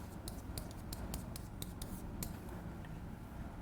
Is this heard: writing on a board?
yes